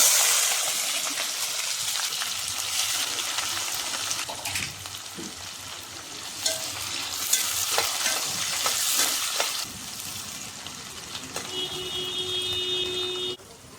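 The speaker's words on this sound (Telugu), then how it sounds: "ఇప్పుడు ఎర్రగడ్డలు వేసుకున్నాం." Onions and mustard seeds frying in hot oil in a pan, with a steady close sizzle, scraping stir strokes and scattered small pops and clinks of utensils throughout.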